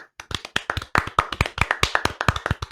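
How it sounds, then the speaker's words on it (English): Hands clap in a quick, uneven patter of sharp close claps, like a small group applauding, lasting a few seconds. "A round of applause for them, please."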